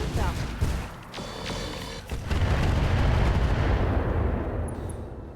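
An Annihilator mech in RogueTech firing its weapons in cluster mode at a Victor mech: a quick run of gunshot-like impacts swells into a long, dense rumbling barrage that then fades, with someone talking over it.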